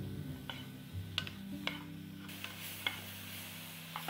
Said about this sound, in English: we'll saute until nice and tender